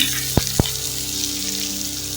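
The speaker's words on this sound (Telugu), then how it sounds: "ఆనియన్స్ కొంచెం త్వరగా ఫ్రై అవ్వడానికి" Onions and chilli fry steadily in oil in a pan, a continuous close sizzle with two sharp clicks near the start and no talking.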